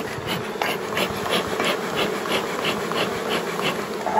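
A dense swarm of honey bees buzzing continuously around a mini-plus hive, a close, steady insect drone with faint handling noises underneath.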